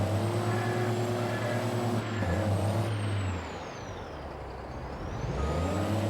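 A truck engine in the video game Farming Simulator 22 idles and revs with a strong low droning hum that drops away briefly, then returns, along with a steady high whine.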